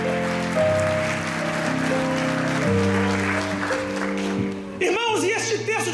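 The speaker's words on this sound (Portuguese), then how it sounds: "Se você crer, aplauda ao Rei dos Reis e glorifique a Ele" A church congregation claps at a Baptist Christmas service, steady applause mixed with sustained organ or keyboard chords throughout and a brief swell of voices near the end.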